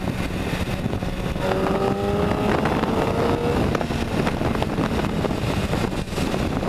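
A 2009 MV Agusta F4 1078 RR race bike with 185-plus horsepower runs nearby, a steady engine drone with rising rev tones, wind rushing over the microphone throughout.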